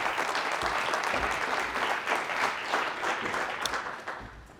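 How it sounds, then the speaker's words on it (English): Audience applause fills a symposium hall, steady dense clapping from a large crowd that holds for several seconds and then begins to taper off near the end. "Can we clap it up for that, everybody?"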